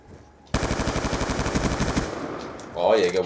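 Rapid automatic gunfire in Black Ops 2 multiplayer on the Hijacked map, a loud sustained burst of about a second and a half that cuts off, followed by a short rumble and a brief voice.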